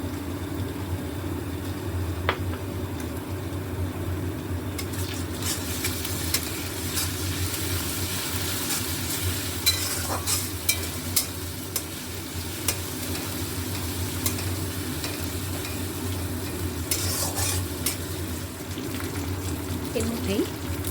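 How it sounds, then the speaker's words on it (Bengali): Ginger, garlic and green chili paste frying with onion in a pan, with a steady sizzle under intermittent scraping stirs and a few sharper clatters, while a voice talks at times. "এবার এর মধ্যেই অল্প আদা রসুন কাঁচা লঙ্কা পেস্ট দিয়ে দিলাম।"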